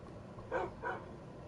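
A dog in a PS4 video game barks twice in quick succession, short and fairly faint, set against a low, steady game background with no talking.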